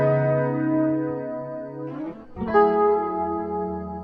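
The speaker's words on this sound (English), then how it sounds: "The last thing I put in is some chorus to give it some color." Electric guitar loop on a stereo guitar preset in Logic Pro X, layered with reverb, doubler and chorus effects. A sustained, shimmering chord rings steadily, then switches to a second chord about halfway through, with no talking.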